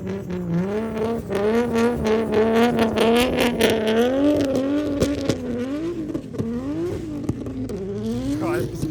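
A Nissan Skyline GTR, R32 or R34, revs its engine loudly on a street in wintry Finland, the pitch rising and falling through repeated throttle blips while people talk over it.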